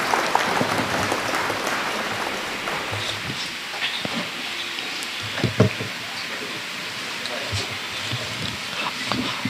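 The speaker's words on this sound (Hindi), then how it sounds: "एक जोरदार तालियों से प्रोफेसर फारूक बख्शी साहब का खैर मकदम करिए।" Applause from the audience at a mushaira and award ceremony, welcoming Professor Farooq Bakhshi, a steady, dense clatter of clapping held at an even level throughout with no voices over it.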